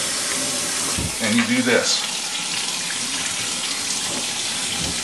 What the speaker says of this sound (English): you immediately rush to the sink, turn on the cold water, full blast